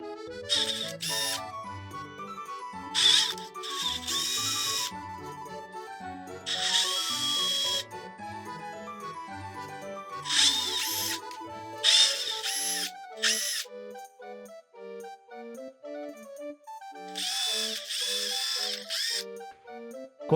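A Makita TD170D cordless impact driver with a faulty switch, dead LED and wobbling shaft runs in several separate bursts, each a loud whirring whine that starts and stops abruptly, with quiet gaps between.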